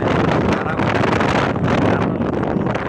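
A powerful air conditioner running in high-airflow mode blasts a loud, continuous rush of wind straight into the microphone, roaring and buffeting without a break.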